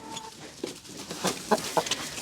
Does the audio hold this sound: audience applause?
no